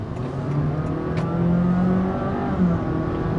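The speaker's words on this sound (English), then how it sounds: "Kick the pedal, the revs will build, and then the car will keep picking up pace progressively" A 2022 Honda City e:HEV hybrid sedan's engine revs steadily and builds as the car accelerates, a continuous mid-pitched drone with rising tones, heard up close without talk.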